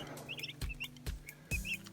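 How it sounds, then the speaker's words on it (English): Backyard chickens from a small flock clucking in short, repeated bursts, fairly close and moderately quiet, with sharp scratchy accents between calls. "So we have some chickens"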